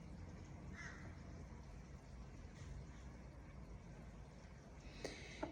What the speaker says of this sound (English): Crows are starting to caw while I remain unable to snore.